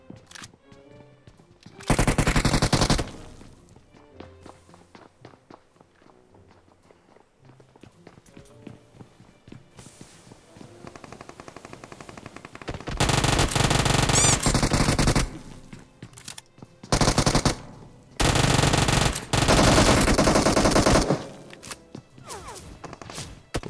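Gunfire in a multiplayer shooter video game: several loud bursts of rapid automatic fire break out between quieter stretches of footsteps and movement, with the heaviest clusters of shots coming close together late in the sequence.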